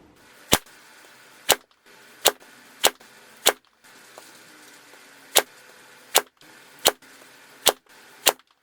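Ten golf balls struck one after another with a Callaway Rogue driver, each a sharp, loud metallic crack at an even pace, with quiet outdoor ambience between hits.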